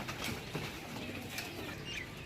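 Pigeons kept for sale coo softly and flutter their wings, heard as faint, scattered calls and brief flaps over a low, steady background hum.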